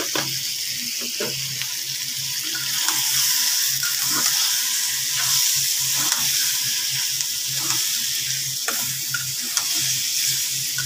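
Spices hitting a hot pan with oil set off a steady, close sizzle and fry, with stirring scrapes and clinks running through it and no talk. The spice is garam masala, going into a home curry.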